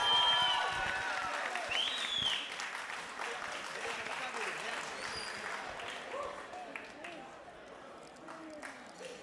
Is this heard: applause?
yes